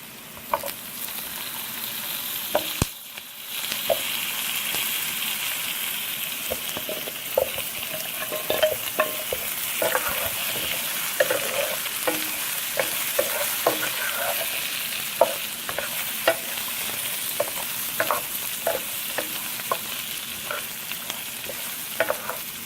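Cooked shrimp stir-fried with browned onions in a pan, a continuous close sizzle broken by frequent tapping and scraping strokes of the spatula, with no talking.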